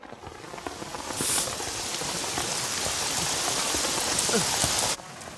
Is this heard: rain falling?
yes